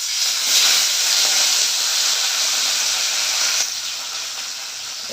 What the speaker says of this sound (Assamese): চৰুত বহাই দিলোঁ, ভাজিব দিছোঁ এতিয়া।